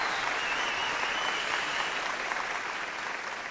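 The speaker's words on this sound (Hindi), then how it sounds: "तो इनके लिए तालियां बजाइए।" A poetry-gathering audience applauds a poet with continuous, even clapping that fills the room at a fairly low level, without any voices.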